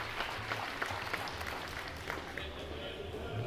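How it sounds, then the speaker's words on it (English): Applause from the audience at the 2024 Queensland State Lead climbing finals prize ceremony, a steady patter of many hands with a few sharper claps, moderately loud. "And we can have a round of applause for Susan, please, as our jury president,"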